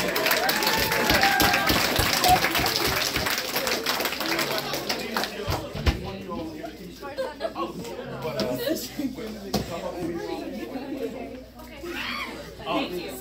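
High school assembly audience breaking into applause with chatter and laughter mixed in, loud and close at first, then thinning out into a murmuring crowd.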